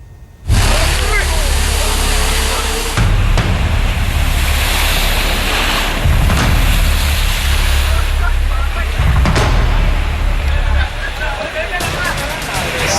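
Loud roaring sea waves from a roughly 10-foot high tide in Mumbai crash in continuous broadband surges, swelling and breaking every few seconds, with wind buffeting the microphone and faint crowd babble underneath.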